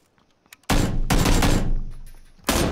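PUBG gunfire: a few faint clicks lead into a loud, sustained automatic burst lasting nearly two seconds, then a fresh burst starts right at the end.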